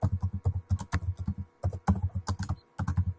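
Rapid keystrokes on a computer keyboard, a dense run of sharp clicks in quick bursts with brief pauses, close and fairly quiet.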